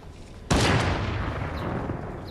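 A single sharp gunshot in a competitive shooter game, bursting in loud at once and trailing into a long rumbling echo.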